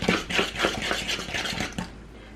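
Butter and other ingredients for chocolate chip cookies being mixed in a bowl: a quick series of scraping, clacking strokes, close and fairly loud, stopping after about two seconds.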